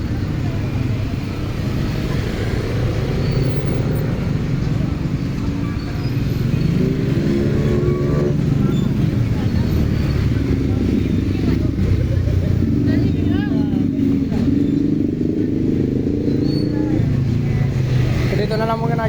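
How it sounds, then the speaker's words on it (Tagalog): Roadside traffic runs continuously beside a fish-selling spot, with motorcycle and car engines droning steadily near and far, while people talk throughout. "Nagtutuloy na nagka-traffic."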